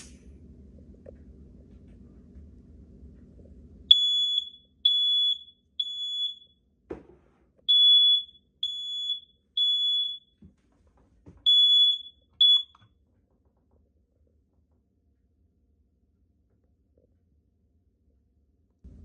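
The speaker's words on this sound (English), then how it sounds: "the alarm was able to detect the canned smoke" A First Alert 9120B ionization smoke alarm, triggered by canned test smoke, sounds in bursts of three sharp, high-pitched beeps, repeated three times with short pauses, then silence.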